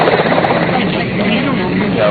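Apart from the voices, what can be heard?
Russian Mi-8 helicopter touching down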